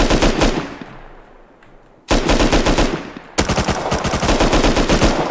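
Video game MP5 submachine gun firing in three long automatic bursts of rapid, loud, evenly spaced shots, each trailing off into a fading echo before the next burst, with no voices.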